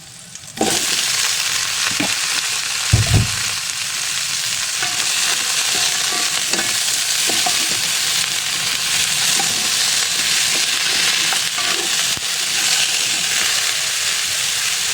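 Washed mixed vegetables hit the hot pan for a coconut-milk dish, setting off a sudden loud, steady sizzle of frying that holds throughout, with a brief clatter near the start and scattered stirring clicks.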